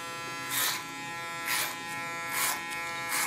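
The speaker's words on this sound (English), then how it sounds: "So that's why I use a clipper or a comb technique" An electric hair clipper cutting hair, a steady close buzzing hum with four evenly spaced louder bursts as it passes through the hair.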